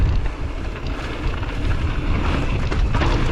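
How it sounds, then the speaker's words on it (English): Strong wind on a mountain bike trail at Fort William buffeting the microphone in a loud, continuous roar, heavy and low, gusting slightly throughout with no talking. "super windy"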